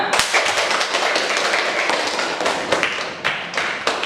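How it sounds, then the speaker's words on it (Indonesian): Students applauding in a classroom, a dense, continuous patter of hand claps held for several seconds with a few louder slaps standing out, close and fairly loud. "tepuk tangan untuk kita semua"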